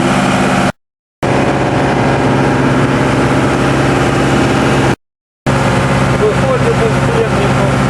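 A TDME-490 marine diesel running aboard a motorboat, a steady, loud mid-pitched drone with faint engine knocks, broken by two short silent gaps.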